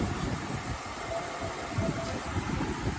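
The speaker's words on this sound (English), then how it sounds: "car's running" A BMW E60's engine idles steadily with a low, even rumble and slight vibration. It is close, constant and unbroken, with no voices.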